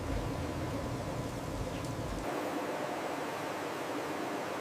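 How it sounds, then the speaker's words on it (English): Steady broadband hiss of noodles frying in hot vegetable oil at a factory, a constant close sizzle that holds level throughout, with a deeper rumble in the first half dropping away partway through. "We fry the noodles in hot vegetable oil to remove moisture and extend shelf life."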